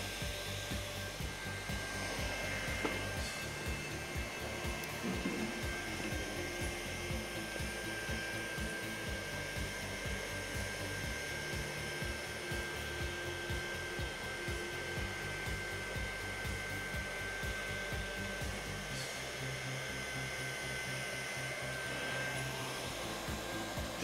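A hot air welding tool blows steadily while melting vinyl floor material at a corner, a continuous close whooshing hiss with a faint high whine running alone throughout.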